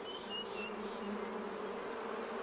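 African honeybees buzz steadily among baobab flowers, a continuous droning hum of several insects close by, with faint higher tones drifting through and no talking.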